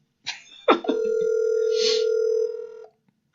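A telephone line sounds while a call is being placed: a couple of brief clicks and knocks, then a single steady tone holds for about two seconds before cutting off into silence.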